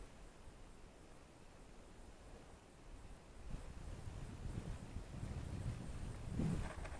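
Wind blows outdoors near a dirt lane where a tiny radio-controlled P-51D Mustang model plane is flown, a steady rushing buffeting noise across the microphone that grows rougher and louder in the second half.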